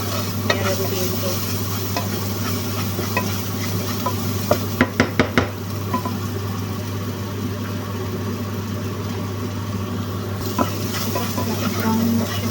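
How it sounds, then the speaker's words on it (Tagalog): Chicken stirred and frying in a pan, a steady loud sizzle with scraping stir strokes and a brief cluster of sharp clatters midway, over a constant low hum. "let's cook the chicken"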